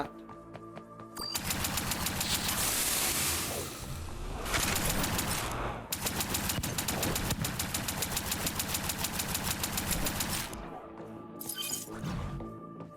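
Rapid gunfire and explosive bursts from the robot shooter roguelike video game Warden's Will, loud dense volleys with brief gaps and a mechanical engine-like hum underneath.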